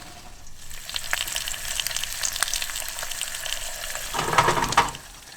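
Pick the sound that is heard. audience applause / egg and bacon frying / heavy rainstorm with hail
egg and bacon frying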